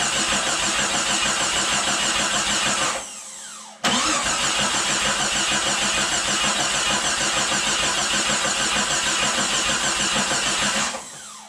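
Jeep Cherokee XJ 4.0 engine, just removed from the vehicle and dry-started, cranking loudly and steadily for about three seconds, pausing briefly, then catching and running at a rough, loud, constant idle until it shuts off near the end; no talk.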